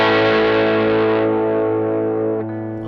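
Electric guitar through an overdrive pedal rings out as a single sustained, slightly gritty chord that slowly fades, close and fairly loud with no other sounds.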